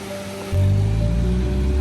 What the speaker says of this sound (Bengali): কিন্তু ঝর্ণাটা তো সুন্দর।